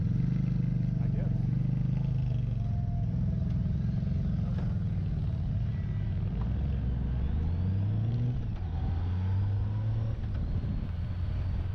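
Kawasaki VN1600 Nomad motorcycle cruising on a fun-run ride, a steady low engine rumble with rising and falling revs throughout, close and continuous under wind noise.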